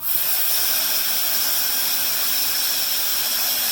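Steam hissing steadily and loudly from the valve of a pressure cooker cooking trotters, a constant broadband rush with no breaks.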